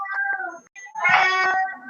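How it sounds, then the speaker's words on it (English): A house cat meows repeatedly in the background during an online meeting, with drawn-out, fairly loud harmonic cries stretching through most of the moment. "It sounds like there's a baby in the background. Or a cat. Yeah, it's a cat."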